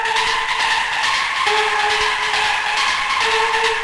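An electronic synth sequence for hard melodic techno plays a bright, buzzy repeating pattern with a sustained tonal line, loud and continuous, with no talk.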